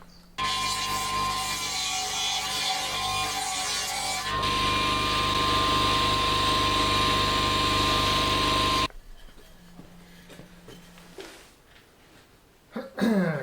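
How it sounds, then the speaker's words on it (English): Hand saw cutting off a glued wooden section for a cupboard door, a steady loud rasping stroke sound continuing for about nine seconds, then stopping, followed by quieter workshop knocks and a brief handling noise. "I want to saw off the rest of this rather than try and chisel it off"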